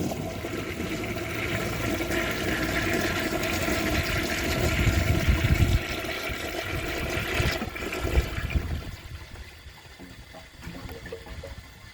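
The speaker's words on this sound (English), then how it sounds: "let's see if it can take a dish towel" A vintage 1969 American Standard Madera toilet flushes a dish towel, a loud rushing swirl of water that runs for several seconds, then fades into quieter trickling and gurgling as the bowl backs up.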